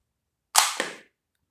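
A toy cap gun fires a single sharp shot, a short, loud crack with a brief ringing tail in an otherwise quiet room.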